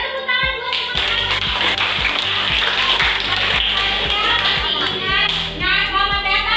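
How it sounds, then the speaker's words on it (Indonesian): Classmates in a classroom clap together, a dense, fairly loud patter of applause with a scattering of children's voices and shuffling mixed in throughout. "Ya, tepuk tangan buat teman-teman."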